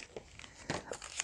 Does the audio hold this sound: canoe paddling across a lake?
no